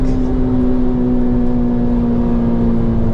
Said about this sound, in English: the hills are alive with the sound of V-Tech.